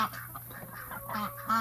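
A few nasal, honking quacks from a small group of backyard ducks, close and fairly clear over faint background noise.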